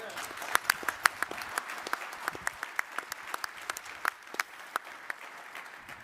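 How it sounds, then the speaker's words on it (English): Scattered applause from the audience at an army conference, a few dozen distinct, fairly faint claps spread unevenly across several seconds rather than a full ovation. "give USAREC and Johnny a round of applause"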